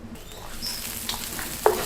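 Garlic and chilies sizzle in about a teaspoon of oil in a pot, a steady close hiss with a few sharp pops and spatters standing out.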